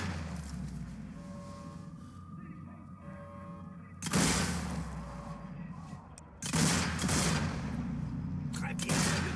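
Gunfire in the zombie shooter Zombie Army 4: Dead War, with two loud booming shots or volleys several seconds apart, each followed by a long rumbling tail over background game ambience.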